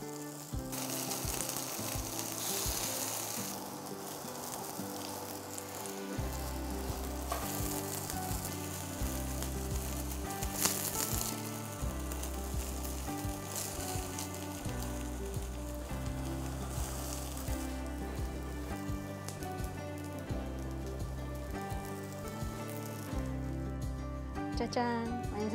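Tuna pancakes of canned tuna batter with a spoonful of flour sizzle steadily in a frying pan, a continuous soft crackle with faint bubbling, with no voices.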